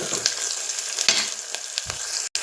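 Onions frying in a pan for a sambar give a steady close sizzle with a few scraping stirs, no talking.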